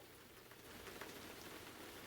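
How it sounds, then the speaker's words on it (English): A faint, even rain ambience of drops pattering on surfaces, a dense continuous hiss that stays steady without voices. "It's raining."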